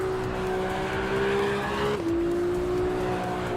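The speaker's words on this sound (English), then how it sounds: "Stock car sounds pretty good, I'll say that." A stock car in the racing sim Assetto Corsa EVO holds a loud, steady engine drone with tires squealing throughout, and the engine pitch drops sharply partway through as it shifts or lifts.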